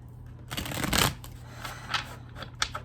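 A tarot deck is shuffled up close, giving a quick riffling burst of cards followed by a few softer papery flicks and taps.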